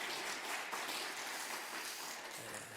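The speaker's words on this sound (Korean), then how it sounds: "잘 귀국하실 수 있도록 또 격려 박수해 주시면 좋겠습니다." Congregation clapping during a church worship service, a dense, steady wash of applause filling the room at moderate volume, with no voices over it.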